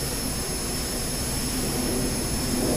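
A steady, loud jet engine roar from an MB-339 trainer jet in the DCS World flight simulator, holding a constant broadband whine with high tonal hum throughout, no talk over it.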